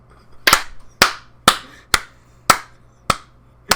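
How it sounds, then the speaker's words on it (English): Seven sharp, loud hand claps in a steady, evenly spaced rhythm, close up and in the clear, each with a crisp attack and short decay. "Let's just clap it out"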